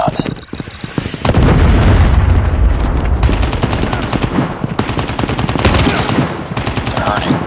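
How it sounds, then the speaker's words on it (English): Gunfire and explosions from a Call of Duty Mobile free-for-all match, with loud continuous rapid shots and heavy booms as a Predator missile strike lands, sustained and dense throughout. "Friendly Predator missile inbound."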